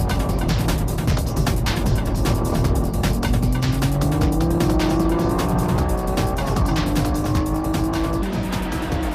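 A Honda NSX-R racing car on slick tires lapping a track, engine roaring loud and steady with rising and falling revs, tires squealing through corners and other race cars close by.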